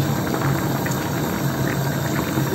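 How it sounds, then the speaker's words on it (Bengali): A pot of Chinese biryani boiling on a stove, a steady bubbling and hissing simmer heard close and fairly loud throughout, with no one talking. "এখন ভালোভাবে ফুটে গিয়েছে"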